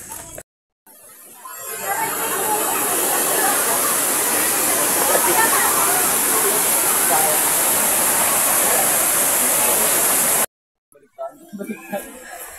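A waterfall roars as a steady, loud broadband rush that holds almost without change for about nine seconds, then cuts off abruptly, leaving quiet and a few faint sounds.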